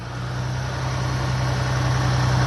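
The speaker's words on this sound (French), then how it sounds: "je me dirige avec le tracteur. Vous voyez là, on marche arrière." Tractor engine idling steadily as it reverses, a loud, continuous low hum with a strong fundamental and no voices over it.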